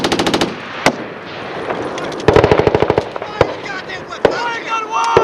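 Marine Corps machine guns fire at a range at 29 Palms, rapid bursts of loud, close gunshots in quick rhythmic strings with single sharp cracks between, while people shout over the gunfire.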